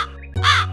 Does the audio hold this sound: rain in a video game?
no